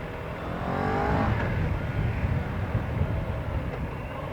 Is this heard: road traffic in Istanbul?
yes